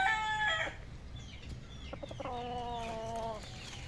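Chickens cluck, and a rooster gives short crowing calls close by in a farmyard. The calls come in separate bursts over low background noise.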